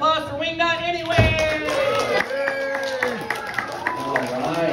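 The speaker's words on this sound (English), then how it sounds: "How about a nice round of applause for Wingnut anyway?" An audience claps for a ventriloquist's puppet named Wingnut, with a short burst of applause and crowd noise mixed under a speaking voice.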